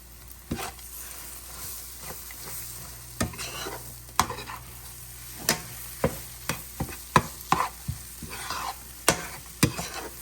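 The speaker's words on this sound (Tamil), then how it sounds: "இப்போ வந்து அப்படியே நம்ம எல்லாத்தையும் மிக்ஸ் பண்ணி விடலாம்" A spatula scrapes and clinks against a pan again and again, stirring egg podimas (spiced scrambled egg with coriander). The strokes come in an uneven rhythm over a soft, steady sizzle of frying.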